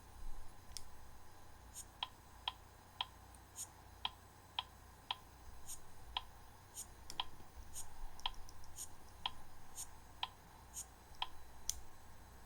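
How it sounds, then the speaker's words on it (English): Metronome app on a Windows Phone ticking at a steady, even tempo, sharp isolated clicks about every half second, with higher accent ticks interleaved, over faint background hiss. "metronome"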